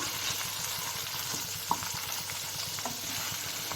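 Goat brain frying in a pan gives off a steady, close sizzle, broken by faint scrapes from stirring and a single sharp clink near the middle.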